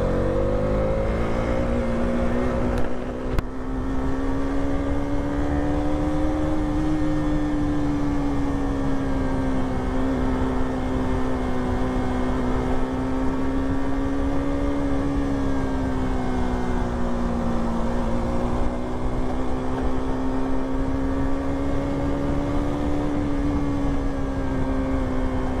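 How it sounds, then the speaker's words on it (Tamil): A motorbike engine drones steadily under throttle while riding through Kerala scenery, a loud continuous tone that rises and falls gently with speed, close and alone for the whole stretch. "இந்த வண்டியோட தாட்டல் சவுண்டும் அண்ட் இந்த சீனரி தான் நீங்கள் பார்க்க போகிறீங்க"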